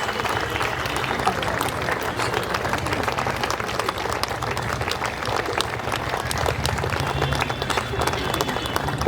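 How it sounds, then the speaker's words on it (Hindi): A crowd at a Palm Sunday church gathering claps continuously and loudly throughout, with voices mixed in beneath the applause. "तालियां तालियां।"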